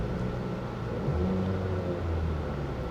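A cheap Copart auction car's engine runs at a steady, close rumble, swelling slightly as it is given a light rev, with no talk over it.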